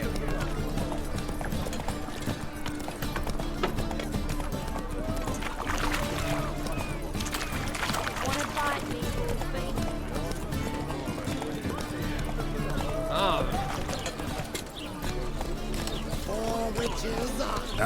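Roach, a horse in The Witcher 3, trots with a steady run of hoof clip-clops beneath continuous talk and ambient game sound.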